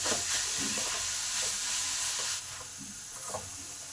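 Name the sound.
stirring coconut and jaggery in a pan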